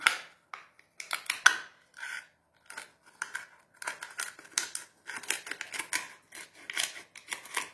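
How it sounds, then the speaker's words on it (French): Scissors snipping through a cup to open it for acrylic paint pouring, a close series of short, crisp cuts in irregular clusters with brief pauses between them. "je vais couper cette tasse ici pour qu'elle soit ouverte"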